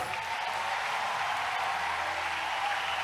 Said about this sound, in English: Let's give Jesus a big hand clap.